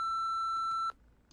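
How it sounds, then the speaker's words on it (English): A single long electronic answering machine beep from a sheriff's office phone line in a Nancy Drew mystery game, a steady tone held for almost a second and then cut off, leaving quiet. "wait for the beep and leave us a message"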